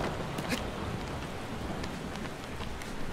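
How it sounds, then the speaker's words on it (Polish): Steady rain falls in the video game Shadow of the Colossus, a dense, even hiss of drops spattering on surfaces with no voices, continuous and fairly close throughout. "coraz mocniej pada"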